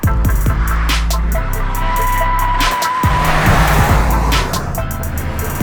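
A Toyota Corolla hatch drives with its gearbox in manual mode, the engine note rising and dropping through gear changes, loud and close inside the cabin with occasional tyre and road noise.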